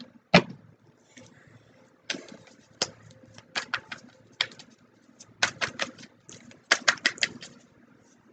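A deck of tarot cards is riffled and shuffled close up, giving clusters of sharp papery snaps and flutters in irregular bursts, with quiet room noise between them.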